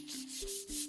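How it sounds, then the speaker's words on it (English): Waterproof sandpaper rubbed dry over a lacquer base coat during black-lacquer restoration, a close rasping swish in quick back-and-forth strokes. "dry polishing with waterproof paper completes the base"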